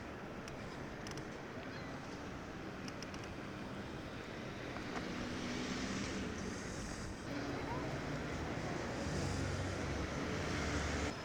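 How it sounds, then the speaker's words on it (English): Roar of Niagara Falls heard from nearby, a continuous broadband rushing wash with wind buffeting the microphone, steady and loud throughout, growing slightly fuller toward the end. "we're here at the famous Niagara Falls"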